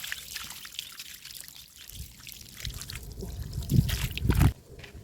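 Water is poured from a vessel outdoors in a village setting, a steady trickle and splash that swells into heavier sloshing pours near the end.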